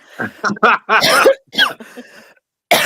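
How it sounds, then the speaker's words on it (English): Several harsh, close coughs in quick bursts, a short pause, then another cough cut off at the end. "Of course, I'm coughing."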